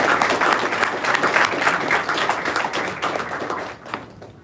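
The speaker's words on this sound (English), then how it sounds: "Let's give a huge round of applause" Sustained audience applause at a Hackathon 1.0 event at DYPDPU, welcoming a speaker to the stage; dense, loud clapping from a large crowd that continues steadily before tapering off in the final half second.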